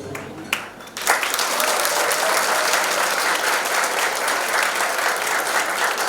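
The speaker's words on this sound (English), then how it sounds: "Parents, let's give a big round of applause for our students of Standard 3UA" After a primary school's annual function performance, parents in the audience burst into loud, sustained applause that swells after a brief quieter opening and stays dense and steady throughout.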